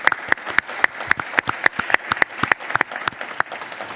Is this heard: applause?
yes